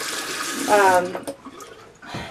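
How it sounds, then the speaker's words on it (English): Water running from a faucet into a sink for hand washing, a steady broadband hiss that swells briefly then settles, heard close with no talk over it. "Which means the water's coming on."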